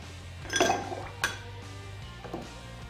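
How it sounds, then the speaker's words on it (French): Ice cubes drop into a glass while a vodka and grenadine cocktail is made, giving a couple of bright clinks near 0.6 and 1.2 seconds and a softer knock later, close and fairly quiet. "On ajoute quelques glaçons."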